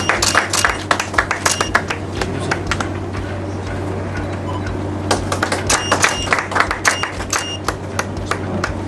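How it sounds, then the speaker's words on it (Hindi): A small crowd at a Delhi political gathering claps sparsely and unevenly for several seconds, sharp near hand strikes scattered over a steady low hum, with the clapping thickening again toward the end. "एक बार जोरदार तालियां बजाएंगे साथियों।"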